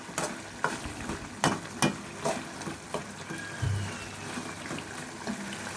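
Steady sizzling and bubbling of chicken liver fry cooking down in a pan as the water reduces, with a few sharp clinks of a utensil stirring against the metal.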